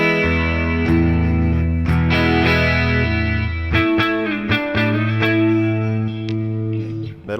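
Solar T1.6C electric guitar on its neck pickup alone, strummed and picked chords ringing out warm and full with distortion and effects, loud and close with sustained notes and a few sharp attacks.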